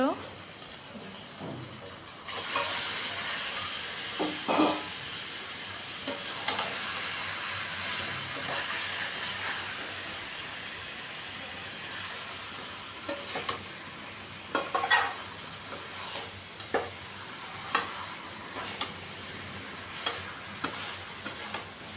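Marinated chicken pieces sizzle and hiss in a hot pan as a utensil stirs them, with scattered scraping clinks and louder bursts of frying throughout, fairly close and steady.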